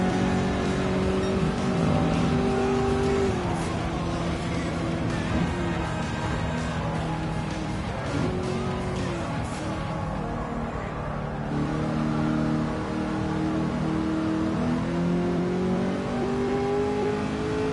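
A BMW race car engine in Gran Turismo 7 revs and holds high pitch through shifting gears, rising and falling tones continuous and loud for the whole stretch, with brief dips between shifts.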